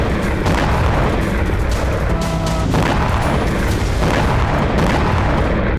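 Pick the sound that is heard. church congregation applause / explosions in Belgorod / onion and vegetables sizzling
explosions in Belgorod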